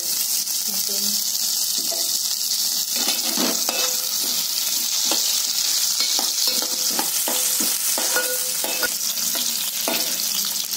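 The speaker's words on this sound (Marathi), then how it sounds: "आणि वेलदोडे आणि हे मनुके। साजूक तूप घातलं 2 चमचे। ते तळून घेते।" Cardamom pods and raisins frying in two spoons of pure ghee for sweet beetroot halwa, a steady close sizzle with bursts of spoon scraping and stirring throughout, no talk.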